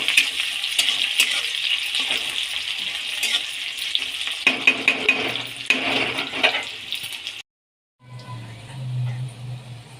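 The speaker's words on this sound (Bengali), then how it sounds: "পেঁয়াজটা ক্যাপসিকামগুলো আমার একটু ভাজা হয়ে গেছে" Chopped onion and red capsicum frying in a pan with bay leaf, a steady close sizzle with stirring scrapes, briefly cutting out before the sizzle resumes.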